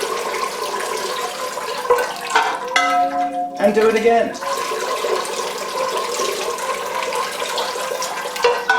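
Water pours steadily into a pot of bark-potted Phalaenopsis orchid, a close, splashing flow that surges briefly in the middle, with a person speaking briefly.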